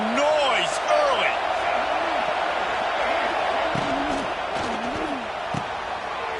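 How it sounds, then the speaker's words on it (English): Dense, loud crowd roar fills a college football stadium during a UCLA vs Clemson game, a steady wall of cheering and whooping with voices and scattered shouts rising above it throughout. "This crowd bringing the energy and noise early."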